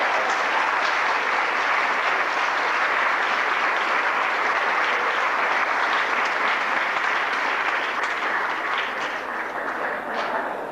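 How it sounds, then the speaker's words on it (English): An audience at a Howard University fireside chat claps loudly and continuously to welcome two speakers to the stage, a full, sustained wall of applause that eases slightly near the end. "Can you give a round of applause to Mr. Rob Hall and Maria Johnson?"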